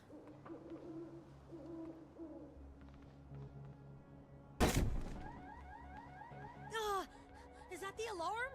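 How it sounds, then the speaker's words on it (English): An alarm sounds in the video game Dustborn, a loud sudden burst followed by repeating rising and falling electronic wails over a steady game background, with voices speaking nearby. "Is that the alarm?"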